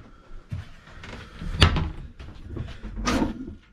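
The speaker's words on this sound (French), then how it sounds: "Des placards." Cupboard doors in an Argentine camper van knock and clack open and shut, a few sharp close thumps and a brief hiss, quiet and without talk.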